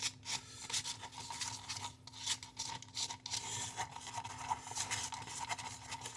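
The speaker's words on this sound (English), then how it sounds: "we do that simply by mixing the seed and the adhesive together until we get a nice uniform coating" Seed being mixed with adhesive for coating gives a continuous soft, gritty rubbing and rasping, close and quiet, with no talk over it.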